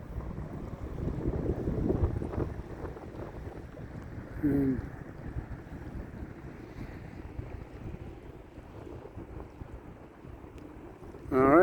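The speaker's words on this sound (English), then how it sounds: "The waves of the ocean." Pacific Ocean waves break at the Alsea River mouth near Waldport, Oregon, a steady wash of surf heavily buffeted by wind noise, with a brief voice heard once.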